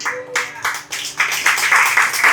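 Congregation clapping hands together at a church celebration service, rhythmic bursts of claps over sustained worship music and voices.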